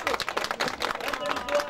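A small group applauding at a gathering: quick, fairly faint claps in an uneven patter, mixed with nearby voices.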